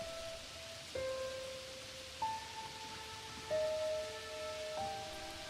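Cartoon rain falls as a steady, soft wash of patter throughout, mixed under sustained background music notes with no talking.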